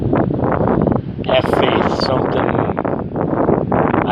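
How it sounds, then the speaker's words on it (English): Gusty outdoor wind buffets the microphone in loud, uneven bursts and low rumbles while someone speaks over it. "it's getting a little windy here."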